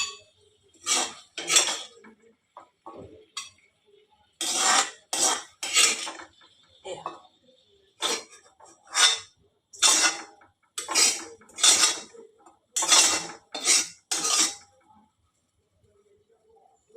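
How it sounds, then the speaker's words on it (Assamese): Fried ridge gourd is scraped and transferred into an aluminium pot in a home kitchen, with a rapid series of metal spoon-on-pot clinks and scrapes in irregular bursts, close and crisp. "এয়া জিকা ভাজিখিনি মই এইটোত কাঢ়ি পেলাইছোঁ, আইনাৰ পাত্ৰটো।"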